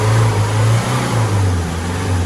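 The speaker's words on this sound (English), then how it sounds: "So now if you rev it to 3K," Ford Mondeo ST engine held at a steady raised rev around 3000 rpm, a close, continuous low droning hum with slight wavering in pitch and no talk over it.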